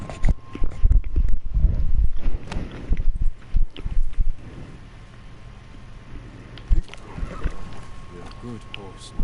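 Horse hooves clip-clop in the Ghost of Tsushima video game, uneven strikes near and fairly loud at first, then thinning out, with a voice speaking briefly over them.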